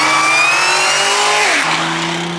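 A supercharged BMW M4 engine roars close and loud while drifting, with a rising supercharger whine, then the pitch drops sharply as it shifts or lifts off.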